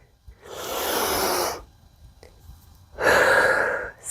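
Two deep, full breaths are drawn during a yoga-inspired calisthenics exercise, each a long airy inhale or exhale lasting over a second, close and clear with a quiet pause between them.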